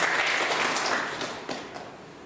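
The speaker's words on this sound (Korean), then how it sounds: "아멘 하면 박수 한번 칩시다." Church congregation clapping after a prayer and an amen, a dense burst of applause that starts full and gradually thins and fades over about two seconds.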